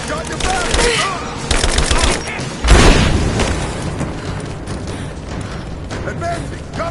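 Gunfire erupts in a Rise of the Tomb Raider firefight, rapid automatic bursts and heavy booming shots close and loud, with a big blast midway and voices calling out among the shooting.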